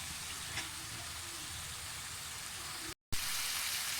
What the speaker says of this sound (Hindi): मसाला अच्छे से भूनना है ताकि हमारा अरवी का सालन अच्छा सा तैयार हो जाए